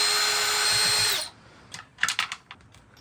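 A power screwdriver backs handle bolts out of a STIHL MS390 chainsaw, a loud whirring run that stops abruptly, followed by light clicks and small metallic rattles of parts being handled.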